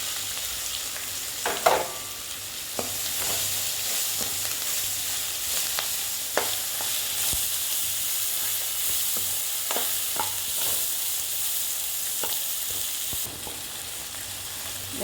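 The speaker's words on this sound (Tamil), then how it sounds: "பச்சை மிளகாயும் வெங்காயமும் போடலாம்." Green chillies and onions sizzle and fry in a pan for carrot upma, a steady hiss held throughout with occasional stirring clinks and scrapes, no talk.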